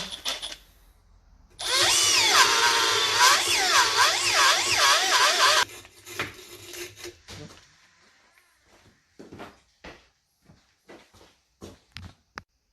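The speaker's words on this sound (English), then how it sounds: "grab a little grinding wheel, whatever's small enough to fit in there. Put that in your drill." A power drill with a small grinding wheel, removing a Jeep YJ track bar bushing, whines loudly for about four seconds, pitch wavering under load, followed by clanks and handling noises.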